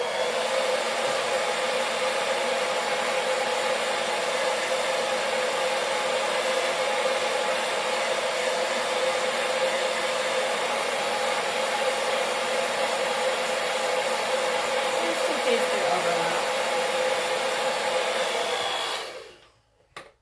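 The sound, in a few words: hair dryer drying paint on sunflower sign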